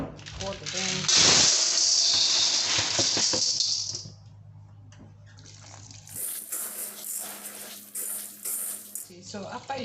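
Tap water gushing loudly into a big bowl of beans for homemade bean flour, a strong splashing pour for a few seconds, then quieter handling, rattling and a voice talking.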